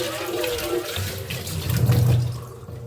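Water runs from a kitchen tap for about three seconds while utensils are rinsed beneath it, a steady close splashing that swells briefly toward the end, with no talking.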